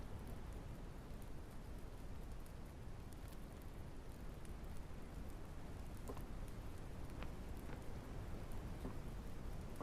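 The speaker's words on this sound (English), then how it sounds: "It's definitely raining" Steady, continuous rain patters and hisses throughout, with scattered individual drops tapping nearby; no talking.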